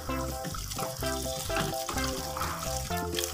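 Dirty electric fan parts rinsed under a running tap, a steady close splashing stream with some clattering as the pieces are turned in the water, and no talking.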